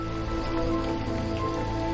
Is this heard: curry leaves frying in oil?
no